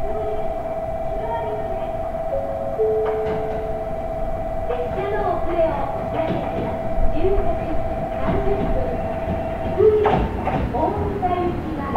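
A JR Kagoshima Line Limited Express Midori train passes with steady rumbling and rail clatter, a long tonal hum and scattered clicks, with an announcement-like voice over it.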